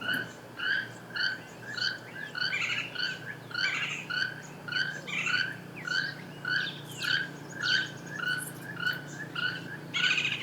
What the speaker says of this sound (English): Keel-billed toucans are not blessed with a melodious singing voice. Their call rather sounds like the croaking of frogs